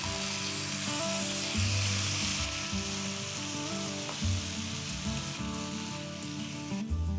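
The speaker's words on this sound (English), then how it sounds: "Now let's add 5 green chilies that I have slit and 3 tomatoes that I have finely chopped." Slit green chilies and finely chopped tomatoes frying in a pan over a low flame for a Chicken Bukhara masala, giving a steady, close sizzle that runs through the whole stretch with a few soft stirring knocks.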